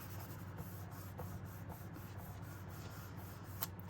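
A paper cut-out is rubbed down onto a card front by hand, making a soft, steady scuffing that runs continuously at close range under a low background hum.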